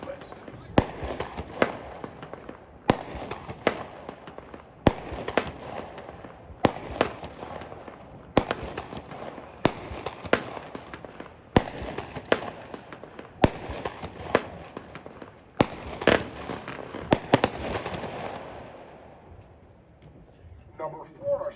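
Tako Pyrotechnics Gold Chainz consumer fireworks cake going off outdoors, a steady string of sharp cracking bursts at roughly one-second intervals for about seventeen seconds before fading into quiet.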